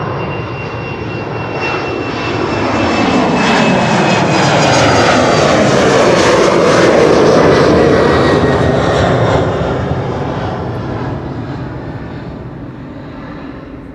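An airliner at Schiphol airport passes close by with a loud, sustained engine roar and turbine whine, swelling to a peak midway and then slowly fading, with no talk.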